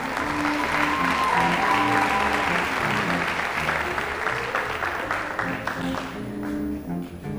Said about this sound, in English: Please give a round of applause to Miss Carly Gump and Mr. Jordan Smith.